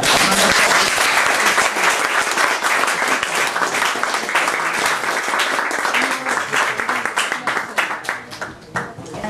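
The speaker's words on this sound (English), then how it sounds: "Can we have another round of applause for Lizzy, please?" Loud, dense applause from an audience at an animation club event in London, sustained for several seconds before gradually thinning out toward the end.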